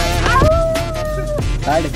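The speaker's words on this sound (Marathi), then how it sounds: "नलावड्यांचा कुत्रा दिसला." A dog near the beach at Ganpatipule gives a drawn-out whining, howl-like cry of about a second, followed by a shorter yelp, heard close over steady outdoor background noise.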